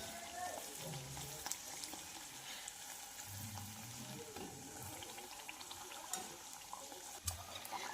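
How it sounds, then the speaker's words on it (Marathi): Puris deep-frying in hot oil until golden give a steady, moderately quiet crackling hiss that runs continuously, with a few sharper pops and no voices. "गोल्डन रंगावर आपल्याला पुऱ्या फ्राय करून घ्यायच्या आहेत"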